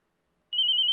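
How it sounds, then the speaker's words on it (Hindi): A telephone bell starts ringing abruptly halfway through, a bright rapid trill, loud and close with no voices. "इसका फोन आ गया।"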